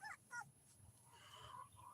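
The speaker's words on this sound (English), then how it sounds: "Puppy cries." A puppy whimpers and yips in a couple of short, high cries, then a thinner drawn-out whine, close by and fairly faint.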